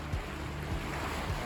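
Swirling sea water churns around a yacht near the mouth of the Rhone, a close, steady rush of waves and wind noise with low thumps of water against the hull, no talking.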